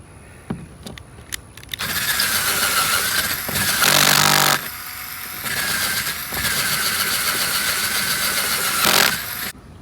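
A power drill with a step drill bit bores holes into the metal body of a van during a conversion, whirring in several loud bursts with a rising high grind and short pauses between.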